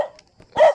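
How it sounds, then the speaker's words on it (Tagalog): A dog barks on a street: one short sharp bark near the start and a louder, longer bark at the end, close by, with no talk. "Hinabol pa ako ng aso."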